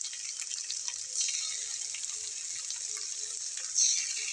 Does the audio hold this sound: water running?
yes